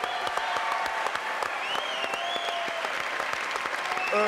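Studio audience applauding steadily on a French comedy television programme, dense and sustained throughout with a few whistles rising above the clapping.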